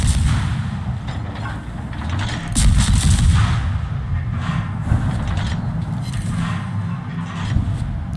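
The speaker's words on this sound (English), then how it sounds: "I load SAP, and I start firing into the broadside of the Des Moines" In the World of Warships naval battle game, warship guns fire SAP shells into an enemy cruiser's broadside, producing a dense run of booming salvos and heavy rumbling blasts that keep overlapping, loud and close, with no talking.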